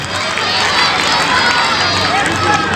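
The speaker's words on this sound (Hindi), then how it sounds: "एक बार जोरदार ताली बच्चों कौशल जी के लिए" A group of children at a school event clapping loudly for a birthday, a dense, sustained burst of applause close by.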